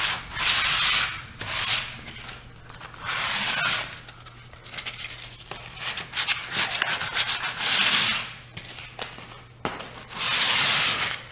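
Sandpaper rubs over rough spots on painted baseboard trim in a series of close, hissing scrubbing strokes. The strokes come in bursts separated by short pauses, and there is no talking.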